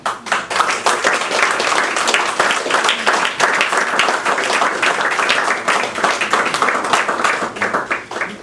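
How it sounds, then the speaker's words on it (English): Steady applause from a poetry reading audience, many hands clapping densely and evenly at close range, fading slightly toward the end. "Once again, another round of applause for Jim Spears."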